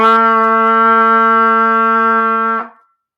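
A single sustained trumpet note, low C, held steadily for about two and a half seconds, bright and full, then cutting off cleanly with a brief ring.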